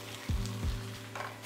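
Kimchi is stir-fried in a pan for tofu kimchi, with a soft low sizzle broken by two or three scraping knocks of a utensil against the pan, close and fairly quiet.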